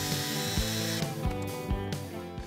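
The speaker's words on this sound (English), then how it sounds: "I'm going to have to drill the head out instead" A power drill bores out a stripped screw head inside a Psion II printer's plastic casing, a steady whining drone with repeated grinding catches and bursts, close up and without talk.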